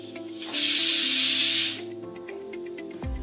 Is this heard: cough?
no